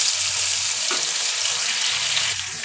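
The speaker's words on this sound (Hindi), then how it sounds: "हम चिकन को अच्छी तरीके से फ्राई कर लेंगे, बिल्कुल इसका कलर चेंज होने तक हम चिकन को अच्छी तरीके से फ्राई कर लेंगे।" Chicken fries with whole spices in a pan, giving a steady close sizzle and hiss with faint stirring scrapes, the frying sound easing off slightly near the end.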